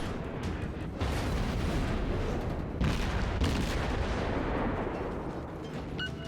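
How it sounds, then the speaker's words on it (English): High explosive shells booming from warship guns in World of Warships, heavy rumbling blasts layered in a continuous roar, with a couple of louder swells standing out and no talk. "And some high explosive shells for good measure"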